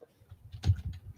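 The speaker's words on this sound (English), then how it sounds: "Akane, Maeve, we can hear you typing." Computer keyboard typing on a call during a session of a Japanese horror RPG: a few soft, close clicks and taps in an uneven patter over about a second, with no talking.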